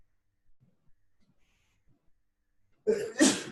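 A single loud, close sneeze bursts out near the end of an otherwise quiet indoor stretch, after a few faint small noises.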